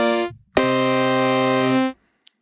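The default program of a discoDSP Corona synthesizer plays a clean, buzzy sustained tone: a brief note cuts off, then a longer steady note holds for over a second before a quick release into silence.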